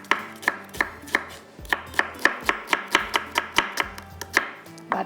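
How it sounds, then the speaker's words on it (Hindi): A knife finely chops onions on a board, striking in a fast, steady run of sharp, close thuds, roughly three to four cuts a second, with no voices over it. "बारीक कटिंग कर लीजिएगा इसको।"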